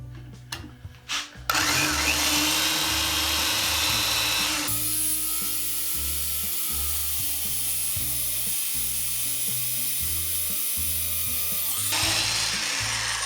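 A power drill boring a hole through a windmill vane during restoration, the motor whining steadily for long stretches after a few short starts, then easing off at the end.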